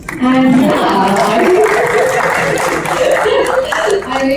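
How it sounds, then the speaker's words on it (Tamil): Audience applause and cheering at the Mr X movie event, a steady crowd wash lasting several seconds with voices calling and talking over it. "ஸோ நமக்கு ஒரு கைத்தட்டல்"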